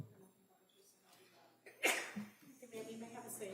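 A single sharp sneeze bursts out in a quiet courtroom, close and loud against a low hush of room noise, followed by faint murmuring and shuffling.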